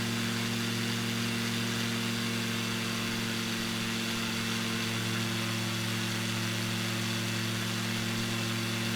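Light aircraft engine in flight with the throttle eased back, a steady loud drone with strong tonal harmonics, constant and unbroken with no talk.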